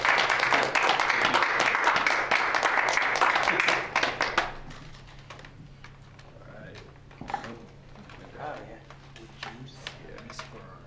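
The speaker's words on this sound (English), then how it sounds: "Let's just give one more round of applause for writer Raul Palma." A round of applause for writer Raul Palma at a visiting writers reading, fairly loud clapping for about four seconds that then stops abruptly, followed by quieter room noise and scattered talk.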